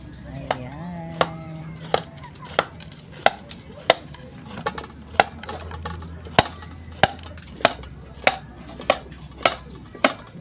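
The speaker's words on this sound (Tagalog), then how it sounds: "Chop natin siya ng maliit-liit." Knife chopping banana heart (puso ng saging) on a board for meatballs, a steady series of sharp, evenly spaced knocks roughly every half second, close and distinct, with a voice speaking briefly at the start.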